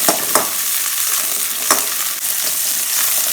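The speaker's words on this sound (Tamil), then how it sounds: "நல்லெண்ணெய் ஊற்றிக்கிறேன். சின்ன வெங்காயம் போட்டுக்கலாம்." Small onions, fifteen to twenty of them, sautéing in sesame oil for a river fish curry, a bright continuous sizzle broken by several quick scraping stirs, close and steady throughout without any talk.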